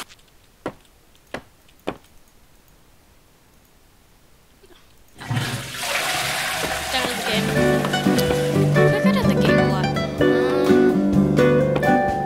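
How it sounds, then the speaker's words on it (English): A toilet flushes in the cleaning video game Breach and Clean: three sharp clicks in near silence, then a loud, sustained rushing roar of water that continues to the end. "Flush the toilet now."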